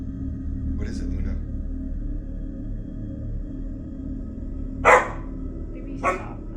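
Dog barking indoors at night, a few sharp barks spaced apart over a faint steady background hum.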